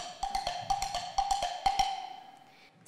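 A pitched percussion instrument clops out a quick, uneven rhythm of about a dozen bright knocks imitating horse hoofbeats, ringing with a steady tone underneath, played alone on a concert hall stage.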